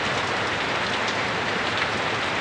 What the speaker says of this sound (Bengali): এখন শিলাবৃষ্টিটা একটু বন্ধ হয়েছে, তাও থেকে থেকে মাঝে মধ্যে পড়তেছে।